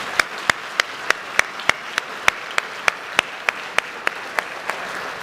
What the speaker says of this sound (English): if we can give this panel a big round of applause